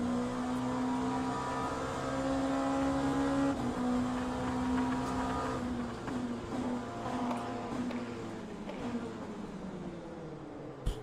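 A race car engine in Le Mans Ultimate holds a loud, steady buzzing drone with sustained tonal whine, shifting pitch slightly as it pulls away, close and continuous, ending in a brief sharp knock.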